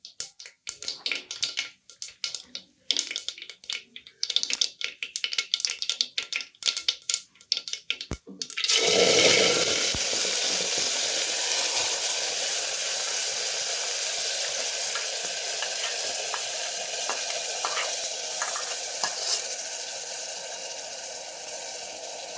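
Spinach, green garlic and chili paste hit hot oil in a pan of green potatoes and sizzle loudly and steadily after some scattered clatter, with stirring scrapes over the continuous hiss.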